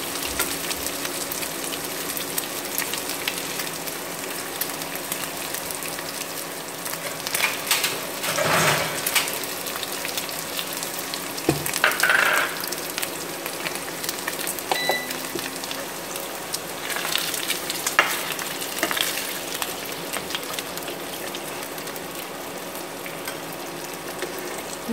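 Pork belly sizzling and frying in a pan, a steady close crackle throughout with occasional louder spits and stirring scrapes, no talking.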